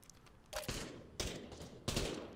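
Gunfire from a rifle-equipped VR shooting game, three loud bursts of shots spaced about two-thirds of a second apart, each cracking over a steady background hum.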